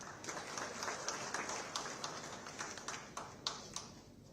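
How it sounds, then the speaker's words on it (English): A gathering at an inauguration programme applauds to welcome a speaker, the association president. The clapping is fairly soft and distant, a steady wash of claps with a few sharper hits, lasting several seconds with no talk over it. "Let's welcome him with an applause, everyone"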